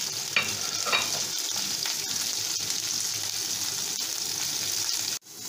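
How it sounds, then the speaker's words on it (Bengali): Prawns fry lightly in ghee in a wok, giving a steady close hissing sizzle with a few brief stirring clinks, cut off by a short gap near the end. "এটা আমি মাছগুলো হালকা করে ঘিতে একটু ভেজে নিচ্ছি"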